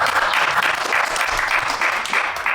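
Audience applause at an indoor fireside chat event, a steady dense wash of many hands clapping that carries evenly from start to finish with no voices over it.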